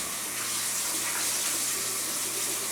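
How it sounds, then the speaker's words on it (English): A sink tap runs at full flow while a Norwex Envirocloth is rinsed under it, giving a steady, close, broadband water hiss with no pauses. "Let me just put that in the sink. Rinse my cloth out."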